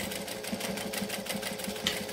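A sewing machine runs steadily while stitching a quilt binding seam, a continuous close motor whir with a fast regular needle rhythm throughout, no voices.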